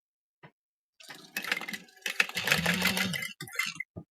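Flatbed sewing machine stitching down the sides of a fabric bag at an eighth-inch seam: a brief tap, then a close, rapid mechanical whirring run that pauses briefly and resumes before stopping.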